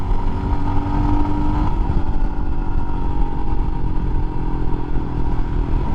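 Royal Enfield Himalayan motorcycle on a test ride, its engine droning steadily and loud throughout with broadband road and wind rumble, and a tone that holds briefly before settling into an even cruising hum.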